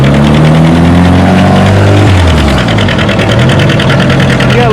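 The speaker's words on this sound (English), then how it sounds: "he's going on his 730 John Deere" A John Deere 730 tractor pulling an 8,000-pound sled at a fall tractor pull in Lynden, its engine roaring loud and continuous, with the pitch falling and then wavering as it labours under load.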